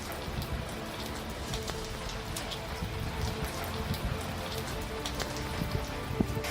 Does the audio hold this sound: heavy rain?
yes